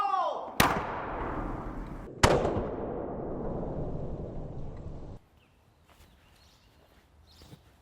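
A pack howitzer artillery gun fires two loud, sharp booms about a second and a half apart, each trailing into a long rumbling echo before fading to quiet outdoor background.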